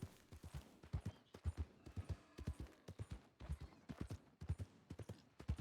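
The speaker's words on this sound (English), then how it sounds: "Why's my horse slowing down?" A horse's hooves clip-clop in a steady, even rhythm, quiet and somewhat distant, continuing alone without other sounds.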